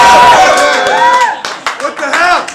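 A crowd at a battle rap league event claps and cheers for the rapper Slice, a short burst of applause and shouts heard over loud talking and whoops.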